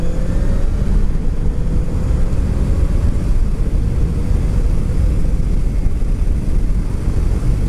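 Motorcycle riding on a road toward the Eifel, its engine a steady loud rumble mixed with heavy wind rush across the helmet microphone, constant throughout with no talking.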